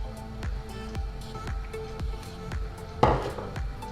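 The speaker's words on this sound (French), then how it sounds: "je mélange" A spoon repeatedly strikes the sides of a pot while chocolate cream is stirred, giving about seven evenly spaced clinks that are close and moderately loud, with a sharper clatter near the end.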